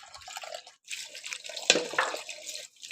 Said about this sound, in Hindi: चावल को हम अच्छी तरीके से 2-3 बार धोएंगे।